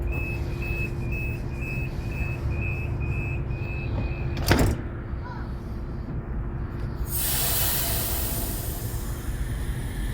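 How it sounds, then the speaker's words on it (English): On an Oscar H-set train on the South Coast Line, an electric door-warning tone chimes repeatedly over a steady cabin hum, then the doors close with a single near thump, followed by constant motor rumble. "Doors closing. Please stand clear."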